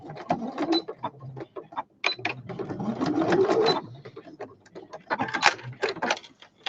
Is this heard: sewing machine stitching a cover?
yes